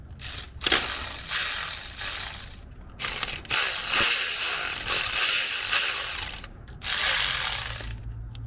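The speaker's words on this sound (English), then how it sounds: "we're going to work the 14 millimeter bolt for the adjuster" Ratchet working a 14 mm belt tensioner adjuster bolt on a Toyota 22RE engine, with rapid clicking pawl bursts in several runs separated by short pauses, close up and fairly loud, with no talking.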